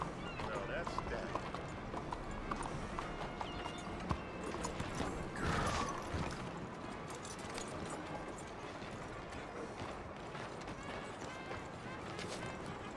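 Stagecoach horses in the Red Dead Redemption 2 video game clip-clop steadily along with a creaking wooden coach, a continuous rhythmic hoof beat under faint background speech and ambient noise.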